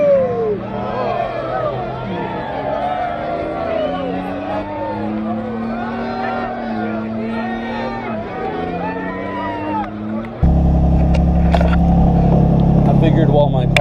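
A motorcycle engine idles while warming up, a steady close rumble that starts abruptly in the last few seconds after a stretch of voices and background chatter.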